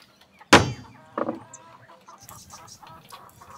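A single chicken gives a sharp, loud cluck, then a few softer clucks follow, close by, with faint background sounds afterward.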